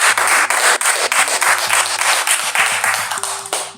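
Loud applause from a Christian business club gathering, dense continuous clapping over a sustained musical tone, fading at the end.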